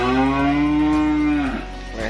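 A cow at a livestock sale lets out one loud, sustained moo lasting over a second, close to the microphone, then trails off.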